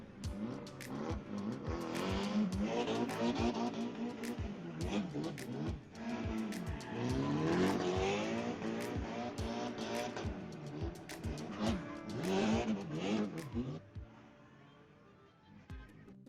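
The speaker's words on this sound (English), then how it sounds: "this man in a sports car drifted around 3 police cars and escaped." A sports car drifts around police cars, its engine revving hard while the tires squeal through repeated slides, loud and close, with voices heard over parts of it.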